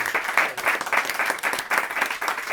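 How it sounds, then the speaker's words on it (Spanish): Audience applause in a hall after a tribute to a protest-music singer, steady dense clapping from many hands, moderately loud and continuous for a couple of seconds with no talk over it. "Para ele peço-vos uma salva de palmas."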